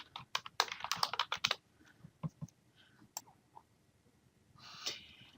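Someone types a password on a computer keyboard while signing in on a PC: a quick, close burst of crisp keystrokes, then a few scattered clicks and a soft rustle at the end.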